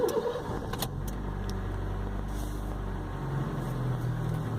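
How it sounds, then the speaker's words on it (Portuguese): A cold 2004 Honda Fit 1.4 with CVT automatic, in park, cranks briefly with keys jangling, then settles into a low steady idle hum, recorded close up. "vou ligar ele aqui pra vocês verem, tá em P."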